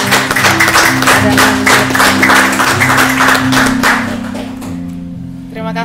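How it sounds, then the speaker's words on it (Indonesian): Audience applause at an Indonesian talk event, dense clapping for several seconds that thins out toward the end, with a sustained musical tone underneath. "Kita berikan tepuk tangan kepada"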